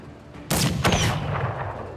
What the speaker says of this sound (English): see if we can finish this thing off with this one-shot rocket launcher